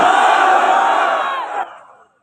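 A large crowd at a religious mahfil gathering in Charfasson bazaar roars a loud unison takbir chant, a sustained mass shout of about two seconds that trails off.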